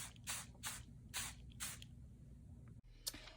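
Several short bursts of hissing spray color onto papers, quiet and close, separated by brief pauses, with a faint low hum underneath.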